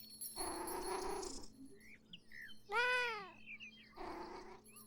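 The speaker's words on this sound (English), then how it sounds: "Oh, she's got a little kitty cat who's come to see her." A cat in the video game Beyond Eyes gives a single clear, rising-and-falling meow, set between softer, breathier sounds, against a quiet background hum.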